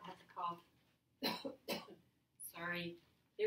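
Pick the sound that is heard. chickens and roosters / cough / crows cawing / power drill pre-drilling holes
cough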